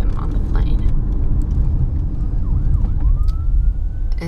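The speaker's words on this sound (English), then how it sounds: "there's a fire truck" A fire truck siren wails and rises in pitch over a dense roar of traffic, growing clearer toward the end, with voices mixed into the background.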